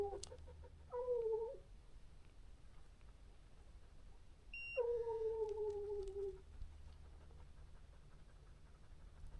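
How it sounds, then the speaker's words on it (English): Hunting hounds in the woods letting out two long, drawn-out baying howls, distant and fairly faint, with quiet ambient noise between them. "2, 3 dogs barking on it"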